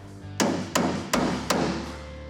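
A hammer taps parts into place during a classic Camaro build. Four evenly spaced, sharp metallic strikes sound over a low steady hum in the workshop, and no one speaks.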